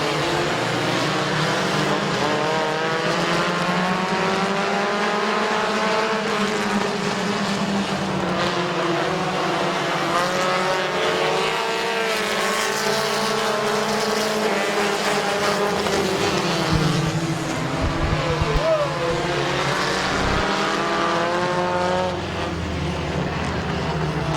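Race cars at Midvale Speedway roar around the oval in a continuous pack, engine pitch rising and falling as they pass, loud and sustained throughout with no talk over it.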